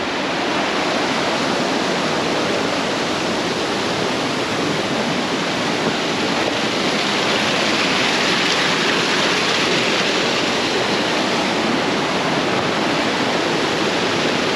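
A swollen creek rushes over small waterfalls in Sunol Wilderness during spring, a loud, unbroken roar of flowing water close by, steady throughout with no voices.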